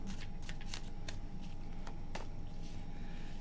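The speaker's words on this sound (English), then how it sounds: "Last shuffle." Tarot cards being riffled and shuffled by hand, a run of quick papery flicks and snaps close up, with a steady low background hum and no talking.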